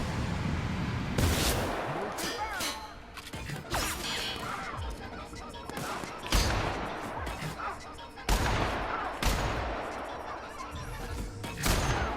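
Gunfire in the video game The Outer Worlds: several sharp, loud shots and impacts spaced a few seconds apart, each followed by a brief ringing tail, with game noise in between.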